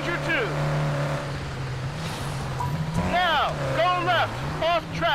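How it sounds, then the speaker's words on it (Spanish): An AI-controlled car drives in the rally racing game Dakar 18, a steady engine drone with rising and falling pitch sweeps, heard under continuous talk. "tenemos un coche manejado por la IA"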